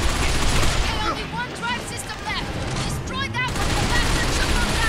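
Rapid gunfire erupts in the shooter Binary Domain as the player blasts at a robot, dense continuous bursts with laser-like zips, loud throughout with no pauses.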